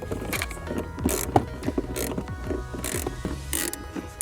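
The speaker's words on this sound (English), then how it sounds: "use this 12mm socket to remove these first 2 bolts" A ratchet fitted with a 12mm socket turns seat rail bolts loose, giving a rapid, close series of clicking pawl strokes with short pauses between bursts.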